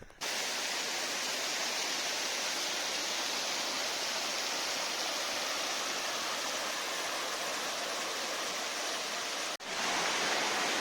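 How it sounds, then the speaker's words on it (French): The Hérisson waterfalls in the Jura produce a steady, loud, broadband roar of falling water that continues without a break, with a brief dip near the end. "Aujourd'hui il fait un temps idéal pour aller jeter un œil aux cascades du Hérisson et aujourd'hui je suis avec Tony."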